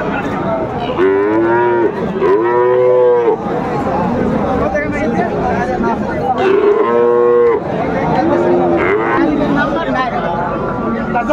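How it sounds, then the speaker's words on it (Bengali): Frisian and crossbred bulls lowing at Raniganj cattle market, several loud drawn-out moos close by over a constant hubbub of crowd chatter. "ষাঁড় আমরা দেখছিলাম"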